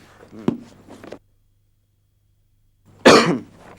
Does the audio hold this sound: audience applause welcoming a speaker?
no